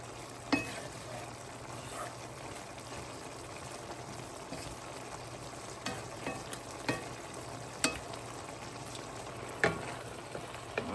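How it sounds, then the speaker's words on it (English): Smothered green beans simmer and sizzle in a pot on the stove, a steady low bubbling hiss with occasional soft pops and clicks, no talking. "We're simmering pretty good. These smothered green beans are looking and smelling great."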